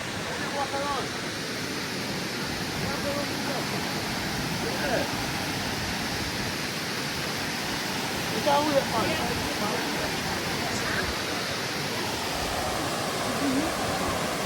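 Dunn's River Falls in Jamaica roars as a constant broadband rush of falling water flowing toward the sea, loud and unbroken, with faint voices now and then beneath it.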